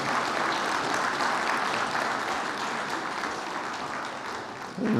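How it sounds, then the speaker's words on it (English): A seminar audience at an annual meeting on digital regulation gives the panelists a round of applause: dense, sustained clapping from a large room, heard alone and easing slightly toward the end. "I think we should give the panelists and Michelle a wonderful round of applause."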